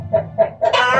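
A chicken clucks three times in quick succession, then lets out a longer, louder squawk, close and clear.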